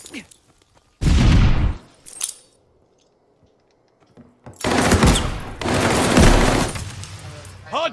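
Loud bursts of gunfire and crashing impacts in a ranked video game match, with a quiet gap between heavy, close volleys.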